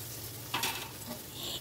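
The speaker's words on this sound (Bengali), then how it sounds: "দেখুন মাছগুলোকে আমি লাল লাল করে ভেজে নেব।" Fish sizzles in hot oil, with a brief louder burst of spattering midway as pieces are turned over.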